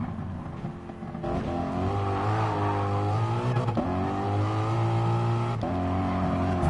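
A Lamborghini engine in a driving video game revs and shifts in steady rising tones, loud and continuous across the stretch without talk.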